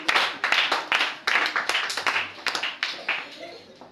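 A church congregation claps rhythmically in acclamation at a Pentecost service, with quick, loud, close bursts of applause repeating steadily while voices join in.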